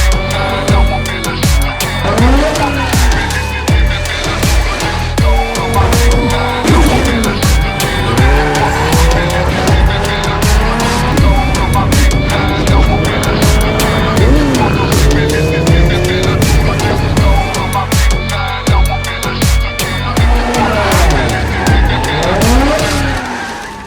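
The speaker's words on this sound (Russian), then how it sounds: "мы сейчас разгонимся на этой машине, нас развернет и мы улетим вот тот отбойник" A 1995 Mitsubishi Eclipse, a replica of Brian O'Conner's car from Fast & Furious, accelerates hard and spins out toward a barrier. The engine revs loudly and steadily while the tires squeal again and again, close by, with no talking.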